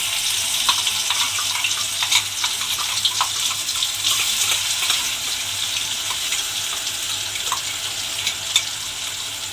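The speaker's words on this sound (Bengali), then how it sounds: "দিয়ে এবারে নাড়াচাড়া করে একটু ভেজে নেব" A paste of onion, ginger and garlic fries in a pan with a steady, close sizzle and faint scattered clicks of stirring, with no talking.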